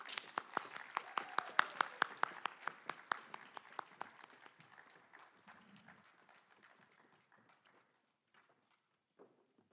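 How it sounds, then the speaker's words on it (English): Audience members at a Florida 4-H awards ceremony clap for officers walking onstage, a moderate round of distinct claps that thins and fades out within a few seconds, leaving near silence. "You can clap for them too."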